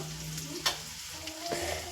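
Leftover overnight khichdi being tempered in a hot pan, giving a soft, steady sizzle with a brief clink near the start and another later, close and fairly quiet, with no talking.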